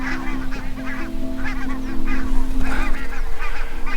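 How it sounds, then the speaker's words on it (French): A flock of geese passes right overhead, honking again and again in a dense, overlapping chorus that swells a little louder as the birds come over. "Et il y a encore des oies qui passent juste au-dessus de moi."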